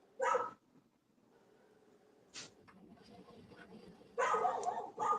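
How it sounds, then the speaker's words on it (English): A neighbor's loud dog barks in short bursts: a sharp bark, a lone yelp, then a louder cluster of barks near the end, heard indoors from a moderate distance over low background hum. "Can y'all hear my neighbor's loud barking dog?"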